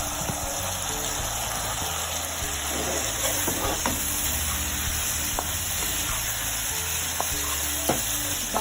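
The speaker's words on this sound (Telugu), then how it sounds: "ఇప్పుడు చికెన్ వేసేసుకోవాలి" Chicken pieces fry loudly in a masala of yogurt, soy sauce and red chilli sauce, a dense continuous sizzle with repeated spatula stirs and clinks close by, Hyderabadi chicken majestic style.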